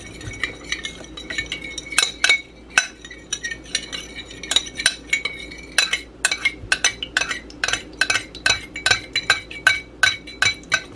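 Spoon clinking repeatedly against a bowl while homemade mayonnaise is stirred with a tablespoon of oil, a steady run of close, bright metallic taps and scrapes with no voices.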